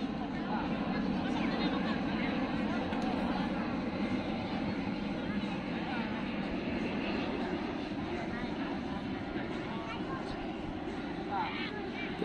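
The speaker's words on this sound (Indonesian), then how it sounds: "Itu dia pesawatnya." A Singapore Airlines passenger jet flies overhead near Land's End at PIK 2, its engines a steady broad rumble that holds throughout, with faint talk and crowd murmur in the background.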